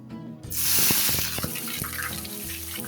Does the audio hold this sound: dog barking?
no